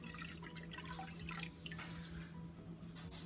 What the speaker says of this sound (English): In my bowl, we're going to add in 3 cups of orange juice.